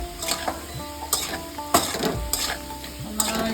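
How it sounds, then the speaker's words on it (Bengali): Potatoes half-fried to a reddish colour sizzle in a pan while being stirred, with repeated scraping strokes of the utensil over a constant frying hiss and no talk. "দেখুন আলুটা প্রায় হাফ ভাজা হয়ে গেছে লাল লাল করে"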